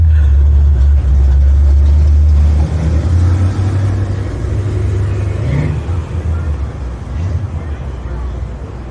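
A car engine revs on a street in Seaside, Oregon, giving a loud, deep rumble for the first few seconds before easing to a lower drone, with voices and outdoor noise behind it.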